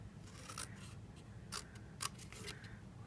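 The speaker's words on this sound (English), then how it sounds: "Cut the long portion of the tab off, and then you're going to cut away this whole first section." Small scissors trimming a paper craft tab for a mini Easter favor, a few faint, crisp snips spaced irregularly over a quiet background.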